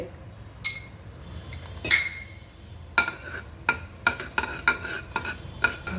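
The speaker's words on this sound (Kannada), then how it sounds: "ನಾನು ಸ್ವಲ್ಪ ಮಸಾಲೆನ ಫ್ರೈ ಮಾಡ್ಕೊತಾ ಇದ್ದೀನಿ" Masala spices with fenugreek fry in a spoonful of oil in a pan while a small spoon stirs, giving sharp metallic clinks and taps in an irregular rhythm over a low sizzle.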